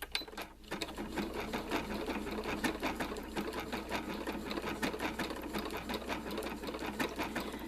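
A sewing machine runs decorative stitch number 19 on a fabric test piece, producing a fast, steady mechanical chatter close by after a brief start-up, running uninterrupted with no voices.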